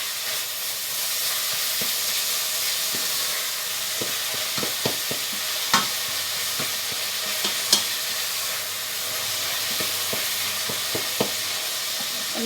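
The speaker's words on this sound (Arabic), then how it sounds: "نحب هذا كله يتقلى." Chopped onion and minced meat fry in a pan for a Tunisian rechta dish, a steady sizzle and hiss running throughout, punctuated by scattered clicks and scrapes as a utensil stirs the food.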